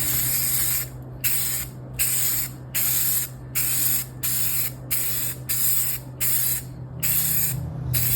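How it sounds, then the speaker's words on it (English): Spray primer goes onto a guitar body in repeated close hissing bursts, about a dozen evenly spaced passes each lasting roughly half a second, set against a low steady background hum. "we're gonna go for the first coat of primer."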